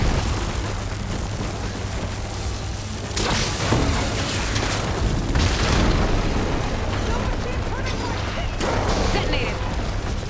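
Heavy explosions detonate in Horizon Forbidden West, with booming, crashing blasts layered over continuous loud game noise and a voice speaking.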